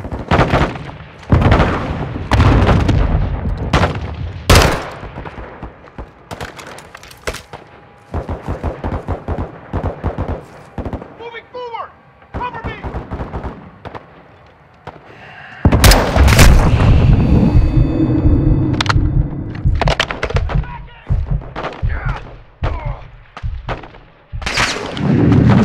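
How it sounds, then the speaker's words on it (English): Rocket fire and gunfire in a war video game battle, with heavy booming blasts and bursts of shots in rapid succession. The firing is loud and near, with brief pauses, and a loud explosive surge arrives past the midpoint. "Crash site is taking rocket fire from Building 2!"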